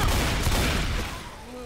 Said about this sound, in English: pipe bombs, their explosion will clear infected if you time it properly